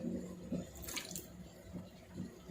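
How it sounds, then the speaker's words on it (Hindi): Water poured into a cooking pot while making a curry-style dish, a faint steady trickling wash with a brief louder splash in the middle, quiet and alone. "या अब इसमें यहाँ पर हम डालेंगे इसमें पानी"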